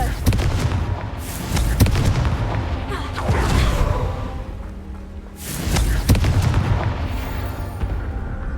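Confringo blasting spell from the Hogwarts Legacy game going off in a series of heavy booming explosions, loud and close, rolling rumble between blasts, with no speech over them.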